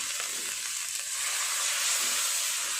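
Spice masala with a splash of water sizzles steadily in a pan as it is fried for a Bombay duck (lote fish) jhuri, a dense, even crackling hiss close by with no pauses.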